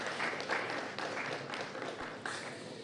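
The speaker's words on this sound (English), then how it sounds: "Let's give them a round of applause for that" A round of applause from the audience at the National Science and Maths Quiz event, steady and moderately distant, with a few louder bursts of clapping.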